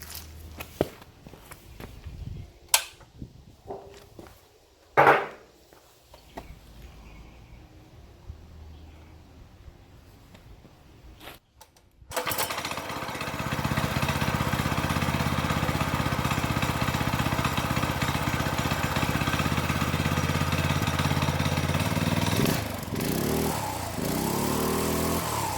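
A minibike with a small-block engine swap is handled and shuffled around with scattered knocks and footsteps, then cranks and catches around midway, settling into a loud, steady running drone close by with a brief rev near the end.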